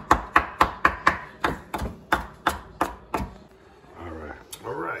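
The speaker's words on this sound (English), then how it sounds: "Chop up a little of Italian parsley here." A knife chops Italian parsley on a cutting board in a steady run of about a dozen sharp, close taps that slow and fade, followed by a voice talking.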